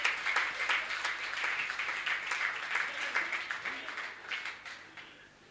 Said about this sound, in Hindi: बज गई ताली